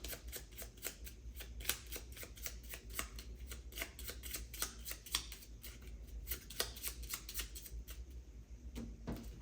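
Blue Takenoko board game cards being shuffled nearby, a run of quick crisp riffling snaps repeating for several seconds with no talking.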